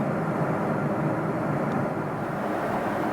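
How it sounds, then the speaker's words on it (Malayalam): Steady, even roar of an airliner's cabin heard from inside the plane while cruising over Iraq between Baghdad and Tehran, a constant broadband drone with no talking. "ബാഗ്ദാദിനും ടെഹ്റാനും കൃത്യമധ്യത്തിലൂടെയാണ് വിമാനം പറക്കുന്നതെന്ന് മനസ്സിലാവുന്നു"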